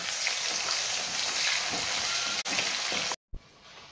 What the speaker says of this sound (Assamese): নহৰুখিনি অকণমান ৰঙচুৱা হোৱাৰ পিছত পিঁয়াজটো দিলোঁ।